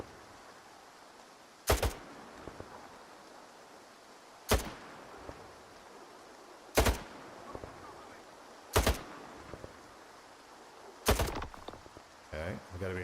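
Gunfire in a video game: five sharp, loud single shots spaced a few seconds apart over a low ambient bed, with quieter clicks and handling sounds between them.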